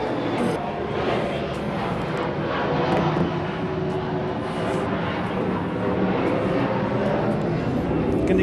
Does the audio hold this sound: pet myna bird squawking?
no